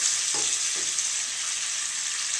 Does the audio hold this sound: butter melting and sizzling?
yes